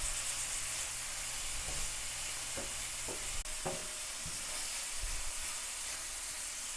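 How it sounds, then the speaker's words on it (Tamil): Onions sautéing in a pan for an instant chapathi kurma, a steady low sizzle with a few soft spoon scrapes and stirs, close and even throughout. "வெங்காயம் இப்போ கொஞ்சம் பொன்னிறமாக வதங்கிருச்சு."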